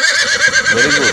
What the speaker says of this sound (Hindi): ये घोड़े की आवाज़ है।